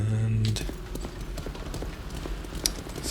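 Horse hooves clip-clop steadily on the ground in the video game Greedfall, a quick even rhythm under ambient game sound, with a brief voice at the start.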